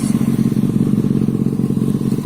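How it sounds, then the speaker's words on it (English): A 2005 Kawasaki ZX6R 636 motorcycle engine idles close by with a rapid, even, throbbing burble that holds steady and loud throughout. "so it's running pretty good"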